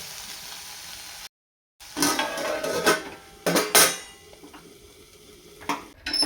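Metal lid set down on a pan of okra curry on a gas stove after the flame is switched off, giving a few sharp clattering clinks and scrapes of pan and utensils, close and loud, with a brief silent gap.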